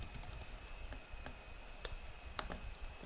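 Quiet clicks of a computer keyboard as a name is typed in, sparse irregular keystrokes over a low background hum.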